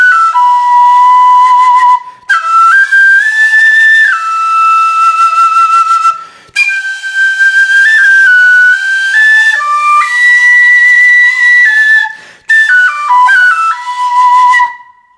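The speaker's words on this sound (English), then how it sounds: "I'm playing this song on the low D whistle" Low D whistle carrying a melancholy Naruto theme, loud and close, with pure sustained notes, slides and ornamented phrases, played solo with short breath breaks.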